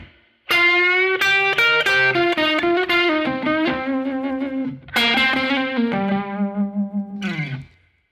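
An electric guitar plays a minor blues lick, clean, bright single notes with string bends and vibrato, a short phrase, a pause, then more held bent notes ringing out alone.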